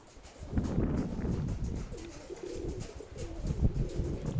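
Mykolaiv pigeons coo in soft, repeated low calls outdoors, close and moderately quiet over a gentle background of rustling and wind.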